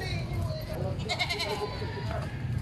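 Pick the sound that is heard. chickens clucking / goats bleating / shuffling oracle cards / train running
goats bleating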